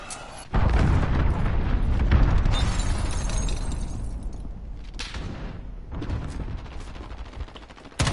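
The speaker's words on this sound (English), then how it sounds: "Enemy cruise missile, take cover!" An enemy cruise missile strike in Call of Duty: Modern Warfare lands with a sudden heavy blast, then a long roaring rumble and debris crackle. A second detonation follows and another hits at the very end, all loud and close.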